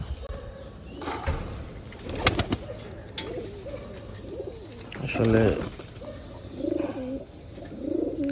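Domestic pigeons in a home flock coo in soft, rolling bursts at close range. A person talks over them.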